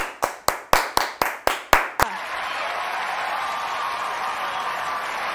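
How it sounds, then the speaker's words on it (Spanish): A run of eight sharp, evenly spaced handclaps gives way to steady, sustained applause that holds at an even level to the end, with no one speaking over it. "Un aplauso"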